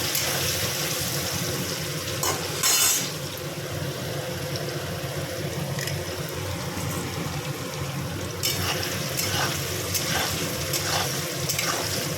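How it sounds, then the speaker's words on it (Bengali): Paneer pieces frying in a pan, a steady dense sizzle with a few brief louder spatters and faint clinks, heard close and with no one talking. "পনিরগুলো ভাজা হয়ে গেছে"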